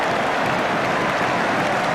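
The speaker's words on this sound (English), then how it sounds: "And the crowd are relieved." A football stadium crowd at a 1981/82 Division match between Ipswich and Middlesbrough applauds after a goal, a dense, continuous wash of clapping and crowd noise, fairly loud and unbroken, with no voices standing out.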